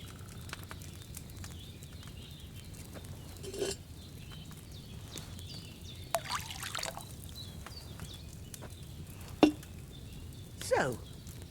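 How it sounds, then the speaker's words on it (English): Wine is poured from a pitcher into an alchemy cauldron in Kingdom Come Deliverance 2, heard as brief trickling pours and light clinks over a quiet ambient bed. "you have to pour the right base into the cauldron"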